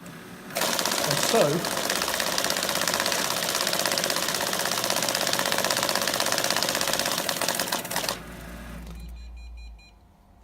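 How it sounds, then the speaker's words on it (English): A banknote counting machine rapidly riffling a stack of notes, a dense continuous whirring flutter that runs for several seconds, then stops abruptly, leaving a low hum; a voice speaks briefly near the start. "The machine is capable of counting up to 200 banknotes at a time"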